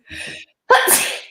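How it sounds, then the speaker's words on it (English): A single close sneeze: a breathy inhale followed by a loud, explosive burst. "I'm going to sneeze."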